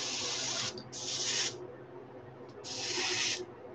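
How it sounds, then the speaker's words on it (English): An airbrush sprays paint onto a fishing lure in three short hissing bursts, the first two close together and a longer third after a pause, near and clear over a faint room background. "And then just spray through it and get like a little bit of a random texture"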